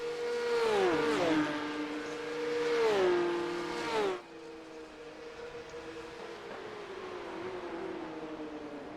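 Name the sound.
Porsche Cup race cars racing at Silverstone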